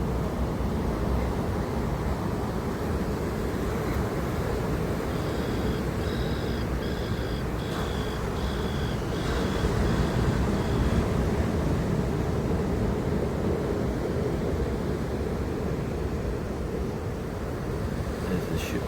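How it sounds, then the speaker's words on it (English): Ocean waves on the Tasmanian coast, a broad steady wash of surf rumbling continuously at moderate distance, with faint high chirps briefly audible in the middle. "the sound of the waves"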